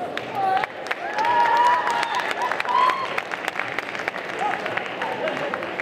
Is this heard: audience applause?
yes